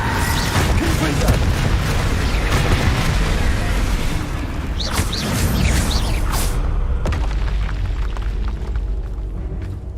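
Confringo fire spell explosions in Hogwarts Legacy, giving loud repeated booms and bursts in a busy combat mix, with a voice calling out over the blasts.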